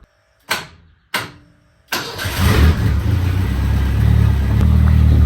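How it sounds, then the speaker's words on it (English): A 1959 Mercedes rat rod's starter gives two short cranking bursts, then catches on a third try, the engine firing up loud and close and settling into a steady rough idle. "I don't know why the starter just stuck for a split second, but hopefully that's not a constant issue in the future."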